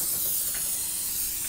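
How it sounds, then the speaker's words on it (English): Cooking spray from an aerosol can, sprayed to coat a dish before an enchilada and taquito freezer meal, gives a steady close hissing spray with no talk. "I need you to spray this"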